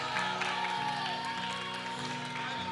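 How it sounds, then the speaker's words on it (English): A church congregation claps and cheers in praise, a continuous spread of hands and scattered whoops mixed under sustained music notes, fairly soft and distant. "I wish I had some people that would clap and give praises to that mighty God."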